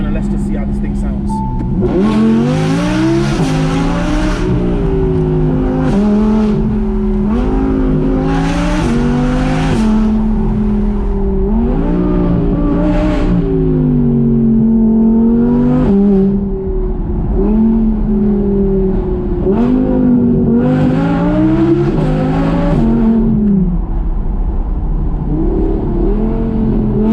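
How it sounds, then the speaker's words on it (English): An Audi R8 V10 Plus fitted with a Quicksilver exhaust accelerates hard through repeated loud, rising revs with gear changes and crackles. The sound is close and continuous and carries on for the whole stretch. "I'm just gonna put my foot down and let's just see how this thing sounds."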